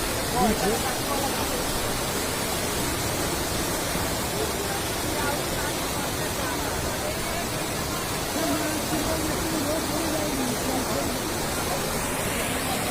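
Floodwater of the Bagmati River rushes past in a broad, constant roar, loud and close, with no break across the stretch and faint voices blending into the wash.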